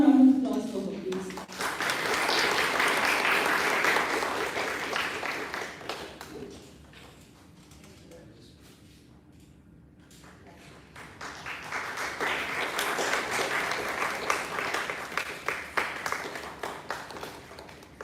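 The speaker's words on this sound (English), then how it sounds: "A warm round of applause for her" Audience at a Women in STEM panel discussion giving a warm round of applause in two swells, a broad dense clapping that fades to a lull mid-way before rising again, with some voices mixed in.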